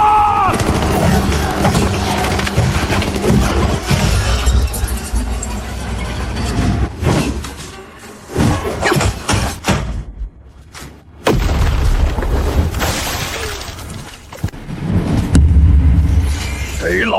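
Gunfire and explosions in an animated series boom in loud, dense bursts with heavy low rumble and a few brief gaps, mixed with shouting voices.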